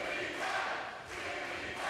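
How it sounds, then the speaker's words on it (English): A bowling crowd at a professional tournament chants a player's name, a dense, sustained roar of many voices swelling and dipping, loud and continuous with no clear individual words. "They're chanting Timmy Mack. Timmy Mack."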